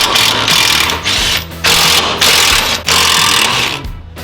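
Whirring bursts of a power tool spinning out T45 bolts from the plastic center under tray of a 2024 Audi RS3 8Y raised on jack stands, several loud runs in a row separated by brief pauses.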